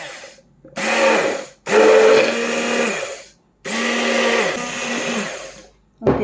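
A mixer grinder whirs in three loud bursts, each several seconds long, separated by brief pauses, with a short fourth burst starting at the end, as it grinds garlic, onion and coriander for a homemade vinaigrette.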